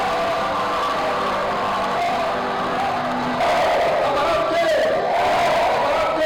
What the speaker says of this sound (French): Vous l'avez senti par les acclamations des étudiants dans la salle.